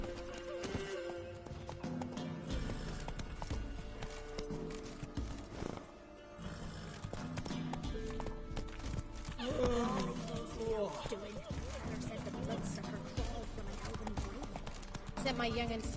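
Roach, Geralt's horse in The Witcher 3, galloping with a steady stream of hoof clops and an occasional snort or whinny, set under continuous background music and talking voices.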